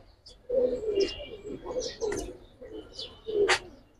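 A silver cock pigeon, a main breeder, and a hen coo in repeated low throaty phrases, close by, with a few sharper flutters and rustles between the calls.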